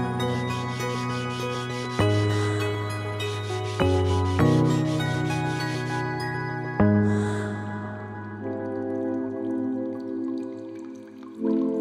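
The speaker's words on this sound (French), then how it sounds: "maintenant je vais les poncer pour enlever les traces de scie." Sandpaper rubbed by hand over thin wooden sticks laid flat on a plywood board, giving steady close scratchy strokes with a few sharper knocks as the pieces shift, and no voices.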